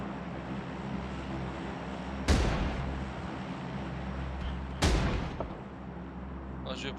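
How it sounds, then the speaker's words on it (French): Two heavy gunshots ring out a few seconds apart in PUBG Mobile, each a loud sharp crack with a rumbling tail, over steady game ambience and engine-like hum. "Oh, je me fais tirer d'ailleurs."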